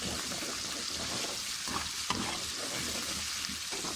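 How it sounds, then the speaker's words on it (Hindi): Ingredients for mash dal frying in a pan while being stirred, a continuous soft sizzle with occasional scrapes, close and moderately quiet, no voices. "हम इसको हिलाते जाएंगे, फ्राई कर लेंगे।"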